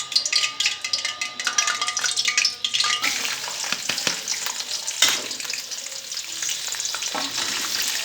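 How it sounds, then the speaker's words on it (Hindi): Onions hit hot oil and fry with a bright crackling sizzle, punctuated by clanks and scrapes of a spoon stirring against the pan, the hiss continuing steadily throughout. "ऑयल हमारा गर्म हो चुका है, अब इसमें प्याज ऐड करते हैं।"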